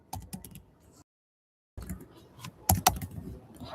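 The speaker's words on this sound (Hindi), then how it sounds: "आई एम जस्ट टाइपिंग है" Someone types on a computer keyboard nearby, with quick soft key clicks, a short silent pause, then a busier run of taps with a few sharper clacks.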